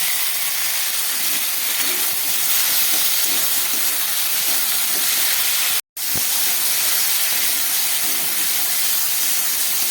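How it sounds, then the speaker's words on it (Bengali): Green beans and potatoes sizzling in a pan with salt and turmeric paste for a spicy dried-fish stir-fry, a steady loud hiss of frying that drops out for a split second near the middle, with no talk. "শিম আলু নুন হলুদ দিয়ে ভালো করে একটু কষিয়ে নিলাম।"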